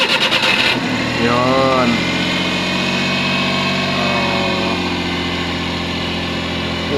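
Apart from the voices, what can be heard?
Suzuki DA63T truck engine starting and idling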